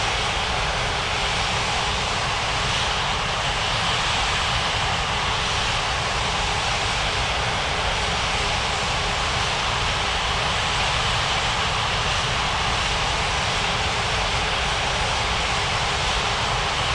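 In an air traffic control video game, a continuous loud aircraft engine roar holds steady as a plane taxis to the gate, a broad, unbroken drone with no voices over it.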